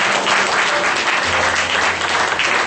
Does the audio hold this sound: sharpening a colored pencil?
no